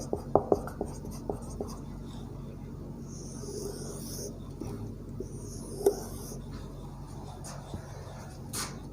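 Chalk or marker writing on a board during a fourth-grade maths lesson on HCF, heard as faint scratchy strokes and a few taps at the start, against low room hum with no talking.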